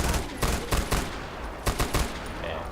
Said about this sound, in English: But pretty much I use the buzzsaw firing from the hip.